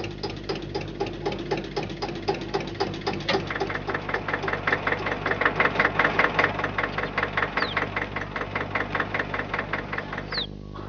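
Tractor engines idle and chug in the fields of Punjab, India, with a steady low rumble carrying a rapid, regular knocking pulse that tightens and grows slightly louder midway before easing off.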